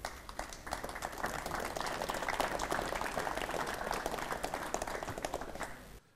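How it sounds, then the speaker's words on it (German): Sustained, dense applause from a crowd at a fire brigade exercise in Grabs fills the space at a moderate distance, holding steady for about six seconds before cutting off. "Applaus."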